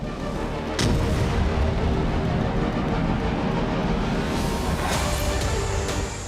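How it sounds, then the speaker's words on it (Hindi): Distant rocket artillery fire from an MLRS strike near Donetsk in war footage, a sustained low rumble of launches with sharp booms near the start and around the five-second mark, continuous and without talk. "डोनेट्स्क पर रूस ने MLRS से बड़ा हमला किया।"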